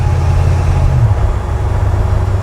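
A 1947 Ford pickup hot rod idles with a deep, steady low rumble close by, the engine note shifting slightly partway through, loud and alone without talk.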